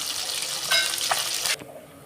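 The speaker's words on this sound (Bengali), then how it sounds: "লবণ হলুদ মাখিয়ে মাছগুলো ভাজতে শুরু করেছি।" Small mourala fish coated in salt and turmeric fry in mustard oil in a wok, a bright steady sizzle with a couple of stirring clinks, easing sharply near the end; no talking.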